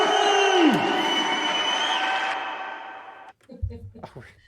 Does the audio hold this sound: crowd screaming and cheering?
yes